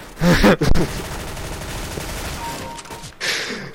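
Gunfire in Counter-Strike: Global Offensive, with a sharp burst of shots near the start, a lower rumbling stretch of weapon noise and another short burst near the end.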